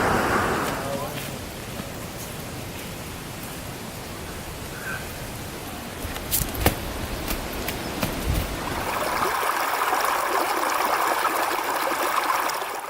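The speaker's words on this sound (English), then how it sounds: "Here we are at the Shoalhaven River, our first technical river crossing, only 100 metres from camp." The Shoalhaven River in Deua National Park runs at a river crossing near a campsite, giving a steady broadband rush of flowing water. Occasional clicks and knocks sound nearby, and the tone changes slightly toward the end.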